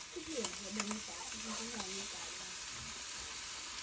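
Baby squid stir-fry in a hot pan with a faint, steady hiss, while a voice talks briefly over the first couple of seconds.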